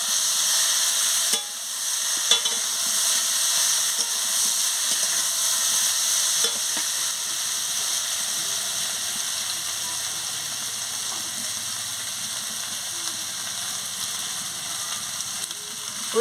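Steady frying sizzle with a spoon stirring pointed gourd, potato and pumpkin curry in a pan, a continuous close hiss with occasional scraping and clinking, no talk.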